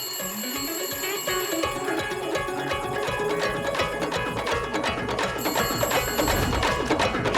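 A telephone rings continuously with a bright, repeating electronic trill, moderately loud with dense background sound underneath.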